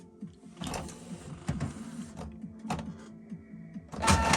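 A Canon G3411 inkjet printer prints a nozzle check pattern after its print head has been fixed, giving uneven mechanical whirs and clicks from the carriage passes, then a louder feed burst at the end.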